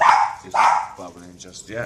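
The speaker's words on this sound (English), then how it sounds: "The dog decided to go nuts at the postman." A dog barks at the postman in a home with an aquarium setup, giving two sharp, loud barks near the start, followed by someone talking.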